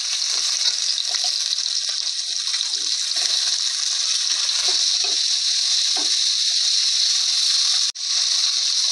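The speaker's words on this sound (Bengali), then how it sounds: "কড়ার মধ্যে তেল দিলাম, বেগুনগুলো তেলের মধ্যে দিয়ে দেবো।" Eggplant pieces frying in hot oil in a wok give a loud, continuous sizzle throughout, with occasional soft stirring knocks and one brief dip near the end.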